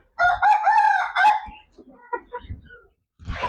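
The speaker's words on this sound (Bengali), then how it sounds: "এইগুলো ছোট পোল্ট্রি মুরগি" A rooster among small poultry chickens gives one loud, close crow, followed by softer scattered clucks and short calls before a brief burst of sound at the very end.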